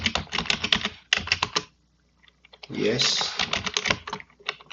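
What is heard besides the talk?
typing a password on a computer keyboard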